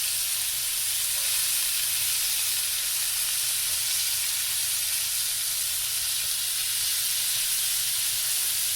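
Chicken boti kabob sizzles steadily in a pan on the stove, a continuous close hiss of frying with no talk, cooked as a stovetop alternative to a barbecue pit.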